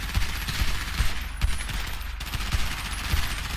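Steady automatic gunfire in GTA V, a rapid run of repeated shots lasting the whole few seconds, loud and close, with no talk over it.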